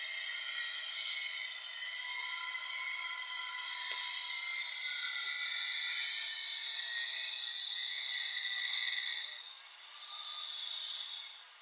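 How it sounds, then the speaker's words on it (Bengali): An angle grinder cuts through a tube well nut with a continuous high, harsh whine. The grind stays steady and close, briefly dips near the end, then picks up again. "সে নাট গ্রাইন্ডিং দিয়ে কাটে"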